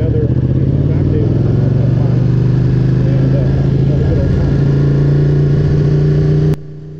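A Ducati 1299 S motorcycle engine runs steadily with a deep, throbbing low rumble, loud and close, then cuts off abruptly near the end.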